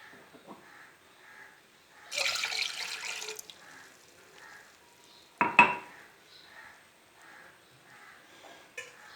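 Milk poured into a pot for strong karak tea, a short splashing pour standing out over a quiet kitchen, followed by a sharp clank of the vessel and a few faint knocks.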